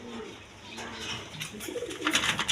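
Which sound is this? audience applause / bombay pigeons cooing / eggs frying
bombay pigeons cooing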